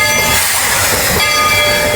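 A Disney theme park train runs loudly and steadily, with dense rumbling rail noise throughout and a possible horn tone woven in.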